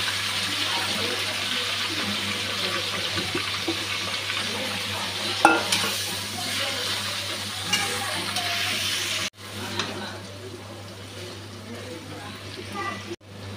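Onions hit hot oil for a chicken curry, giving a steady broadband frying sizzle with light stirring clatter throughout, plus a low constant hum from the stove area and a brief drop in level near the end.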